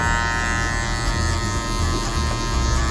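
A Portuguese-speaking barber runs an electric hair clipper with a number 1 guard while cutting a taper fade, a steady, close, loud motor buzz that continues without pause and carries no talk.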